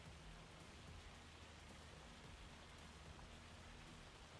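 Rain or hail in the video game Farming Simulator 25, a steady, dense hiss of drops pattering on surfaces with a faint low rumble beneath, continuous and even throughout.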